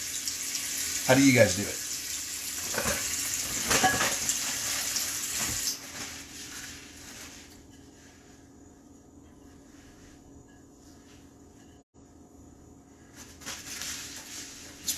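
Tap water runs while a plate is washed in a sink: a near splashing stream with clatter over the first six seconds, then quieter, fainter running water. A person speaks briefly near the start.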